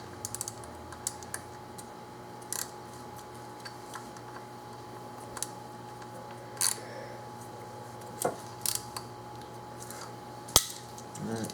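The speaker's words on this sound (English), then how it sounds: "Torque up coil pack." A torque wrench clicks sparsely while tightening a coil pack on the driver's side spark plugs of a 2001 Infiniti QX4, giving scattered sharp ticks over a steady low background hum.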